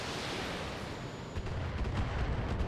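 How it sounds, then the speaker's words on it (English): Mortar fire in a video game, a dense continuous rumble of booming impacts that grows heavier halfway through, loud and low with no talk. "Again, more mortars."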